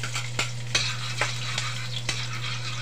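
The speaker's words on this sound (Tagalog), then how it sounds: "So mainit na tong kawali natin, pwede na tayong magsimulang maggisa. So unahin natin tong bawang" Garlic sautés in a hot pan under a steady sizzle, with sharp spatula scrapes and taps against the pan at irregular intervals and a constant low hum beneath.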